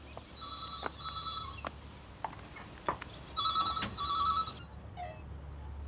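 An old telephone rings in short repeated double bursts at a roadside call box across the road, heard at moderate distance over steady low background hum, with no talking.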